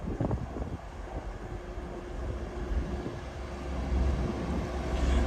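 Passenger train pulling into a station, a low rolling rumble that steadily grows louder and nearer over several seconds, with a faint steady hum above it.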